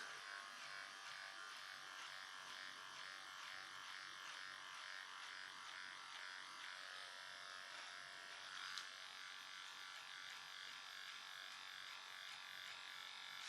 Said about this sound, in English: See how I'm working in both directions with the clipper?